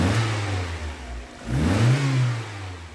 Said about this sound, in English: Sounds nice on the engine.